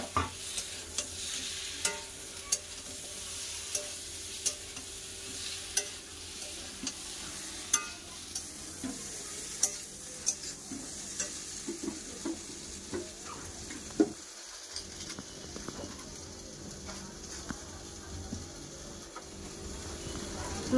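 Fried vegetables, including fried pointed gourd, being stirred in hot mustard oil with spices, with steady sizzling and repeated scraping stir strokes close by and no talk.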